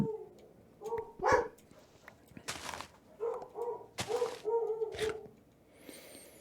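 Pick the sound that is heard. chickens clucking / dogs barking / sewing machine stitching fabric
dogs barking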